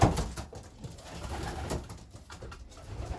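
Racing pigeons coo softly in a dim loft, a steady low murmuring chorus of several birds with occasional wing rustles, close by and continuous.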